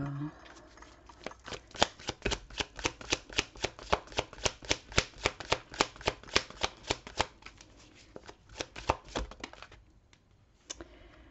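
Tarot cards snap and riffle in a fast run of sharp, evenly spaced flicks, close to the microphone, thinning to a few scattered taps near the end, with a voice talking quietly underneath.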